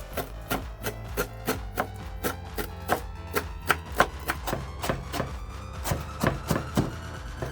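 Rapid, rhythmic knife taps on a cutting board as fresh dill is chopped, a quick series of crisp chops close by, with no talking.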